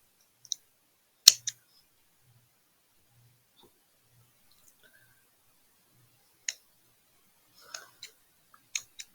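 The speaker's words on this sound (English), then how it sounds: "I'm just going to snip these ends off" Scissors snip the ends off a craft sunflower in a quiet room, a handful of sharp, close, isolated clicks scattered irregularly with long silences between them.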